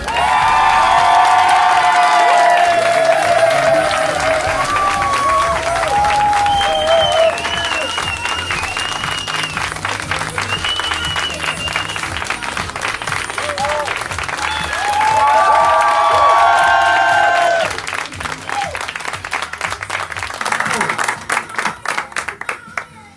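Studio audience on Nostalgie Belgique applauds and cheers as a singer is introduced, loud sustained clapping with whoops and shouts throughout, fading into sparser claps near the end.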